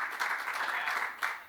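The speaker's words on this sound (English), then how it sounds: "Let's give a round of applause once again to our great panelists" Applause from a conference audience for a panel of speakers, a steady wash of clapping at moderate volume across the whole stretch with a brief swell near the end.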